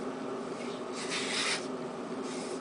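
Homemade scraper tool dragged along the edge of a wooden katana blade, a dry rasping scrape that swells for about half a second amid steady background hiss, then fades.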